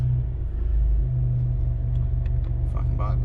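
A Chevrolet Camaro with about 199,000 miles rumbles loudly and close on a cold start, a deep steady throb that swells slightly early on, with faint voices near the end.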